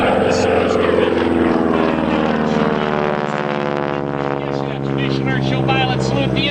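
Super Stearman biplane, the red aerobatic show plane, droning loudly and steadily with propeller buzz as it flies past at an airshow, its engine sustained throughout with a public-address announcer talking over it.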